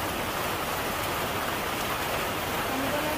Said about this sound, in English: Hard rain a fall.